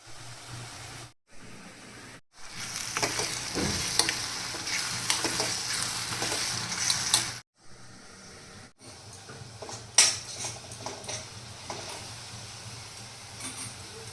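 Vegetables cooking in a pan on a gas stove in a home kitchen, a steady loud sizzle and frying hiss with stirring scrapes, broken by a few brief silent gaps.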